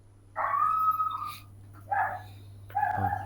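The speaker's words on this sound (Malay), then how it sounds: "Anjing jiran." A neighbour's dog lets out three separate bursts of barking and whimpering: a longer whining yelp first, then two shorter cries. A steady low hum runs underneath throughout.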